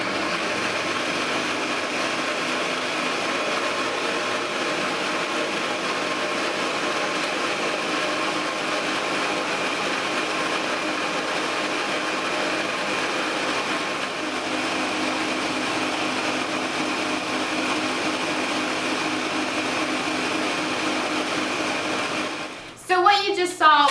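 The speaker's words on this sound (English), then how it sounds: "I'm going to start the blender" A blender runs steadily as oil is slowly poured in through a funnel to make mayonnaise for Brazilian potato salad, a constant loud whirring motor drone that holds for most of the clip before a brief clatter at the end.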